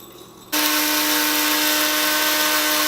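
An electric grinder starts abruptly and whirs at a loud, steady pitch while grinding toasted cumin seeds, running continuously with no voices.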